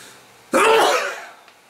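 A single sharp sneeze bursting out close to the microphone, a loud explosive blast that trails off over about half a second, followed by a brief faint sound, no talking.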